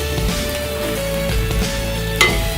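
Onions sautéing in a pan for Chennai-style chicken kurma, a steady continuous sizzle with faint stirring scrapes and a brief sharper clink near the end, no talking.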